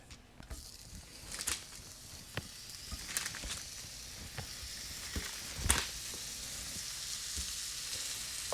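Bob Evans sausage patties sizzle steadily in a pan, a constant frying hiss with scattered pops and crackles rising now and then, close and moderately loud with no voices.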